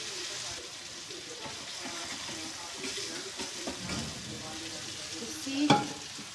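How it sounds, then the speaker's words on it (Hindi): Spiced masala frying for dal in a pan, a faint continuous sizzle with soft stirring scrapes and a sharper clink near the end, close but quiet. "और बस इसको भूनने देना है थोड़ा सा मसाले को अच्छे से।"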